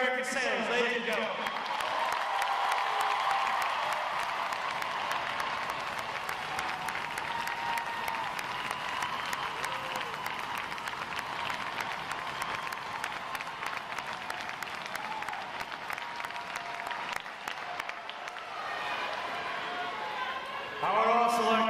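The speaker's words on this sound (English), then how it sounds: "put your hands together for the 12 outstanding division standing before you here today" A large audience at a U.S. Navy boot camp graduation applauds for graduating sailors, sustained dense clapping and crowd noise lasting about twenty seconds with a voice briefly audible at the edges.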